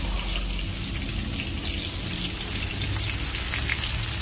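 Fish frying in hot oil, a dense steady crackling sizzle that stays loud and even throughout, with no voices.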